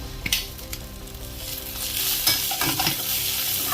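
Onions and coriander fry in a pan for a Malvani shark curry, giving a close, steady sizzle with a few scraping stirs of a utensil and no voices.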